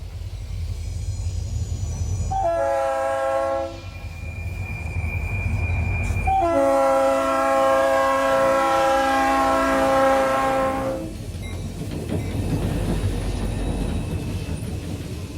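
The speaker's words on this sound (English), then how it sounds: "we hear the horn of a Santa Fe to Elkhart freight coming off the Porter branch" A Santa Fe freight train's horn blows two long chords, a short blast then a sustained one, over the steady rumble of a passing train with squealing wheels.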